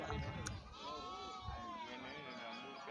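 Young goat kids bleat in wavering, drawn-out cries at a busy livestock market, several overlapping calls over a steady background of crowd voices and murmur.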